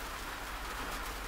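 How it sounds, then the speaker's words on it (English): Rain falls outside a cabin in a swampy area, a steady, dense hiss of drops on surfaces with no break, fairly faint and even throughout, with no voices. "It's raining now"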